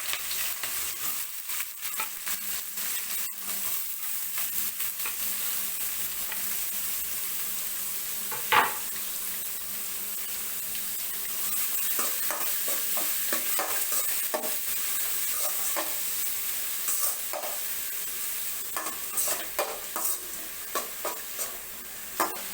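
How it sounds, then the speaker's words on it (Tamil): Onion, green chili and curry leaves fry in oil with mustard seeds and lentils, a steady close sizzle broken by a spoon stirring and scraping the pan in scattered clinks and scrapes. "இப்போது நல்ல வெங்காயம் வதங்கிருச்சு."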